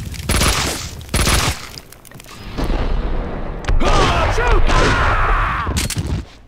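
Gunfire from the video game Max Payne 2: bursts of shots and booming blasts come in clusters, then a sustained volley of firing with whizzing effects. Someone talks loudly over the action in places.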